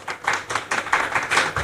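An audience claps with full applause to welcome speaker Tahir Ahmed Siddiqui at a balanced family welfare event, a dense, steady wash of many hands, fairly loud and without talk.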